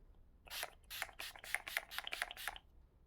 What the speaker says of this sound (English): I've literally just sprayed that all over my top